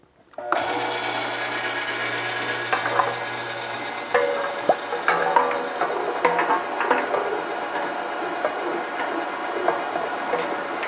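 Meat grinder grinding chilled, cut-up wild turkey meat, a steady close whirring mechanical drone with ratcheting clicks and rattles running continuously for about ten seconds after it switches on.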